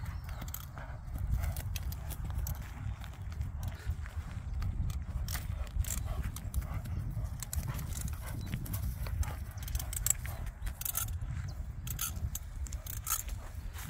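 A walking criollo-type overo horse, a calm saddle horse used in the countryside, clip-clops steadily at close range, its hooves striking in an even rhythm throughout with background rustling.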